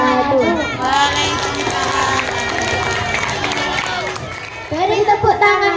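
Children and adults at a school Ramadan program clap and cheer for a class 4 performance, a lively burst of crowd noise with voices calling out across the room.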